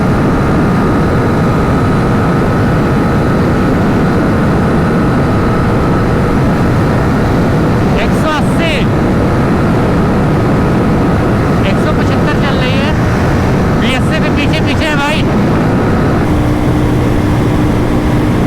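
A motorcycle in sixth gear runs at steady high speed, a loud continuous engine drone mixed with strong wind rush, with brief chirping sounds partway through and a voice heard faintly over it.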